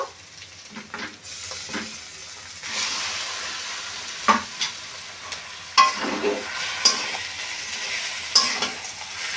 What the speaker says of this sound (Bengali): এইভাবে মশলার সঙ্গে বেশ ভালো করে কষে নিতে হবে